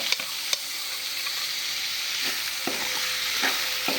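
Finely chopped onion tossed into a hot frying pan alongside garlic paste makes a constant, loud sizzle, marked by a few sharp clicks of a spoon as it is stirred. Nobody speaks.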